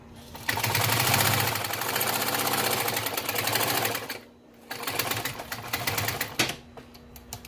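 An auto upholstery sewing machine stitches in a fast rapid rhythm, loud and close, stopping briefly before running again in a second burst.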